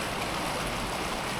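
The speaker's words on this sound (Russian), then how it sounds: "Смотрю на эту воду, которая через камни перекатывается." Water rushes and babbles steadily over stones in a shallow stream, a soft, continuous wash with no voices.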